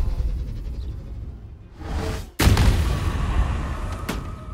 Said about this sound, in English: Eldritch Blast.